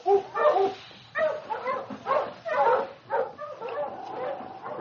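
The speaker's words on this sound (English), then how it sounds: "On King! On, you husky!" Husky sled dogs in a team bark, yip and whimper in a rapid, uneven series of close calls, part of an old radio drama set on the Yukon trail.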